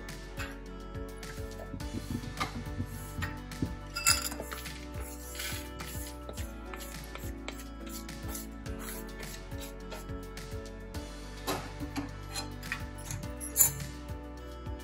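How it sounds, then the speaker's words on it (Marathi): Seeds and chia seeds roasting in a pan rattle and tick lightly, with small scattered clicks and scrapes of a spatula against metal that stay fairly faint and continuous. "लगेच आपल्याला हे चिया सीड त्यात टाकायचं आणि ते पण भाजून घ्यायचं"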